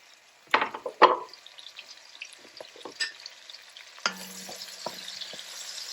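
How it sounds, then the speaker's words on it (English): Onions roasting in olive oil in a pan for lamb stew, opening with two sharp clattering knocks, then settling into a continuous sizzle with scattered stirring taps and a brief water-like hiss near the end. "let's start with our onion. I'm just gonna roast them."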